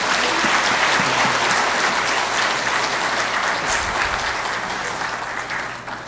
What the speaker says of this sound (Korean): 이 시간 나오실 때 큰 박수로 환영하겠습니다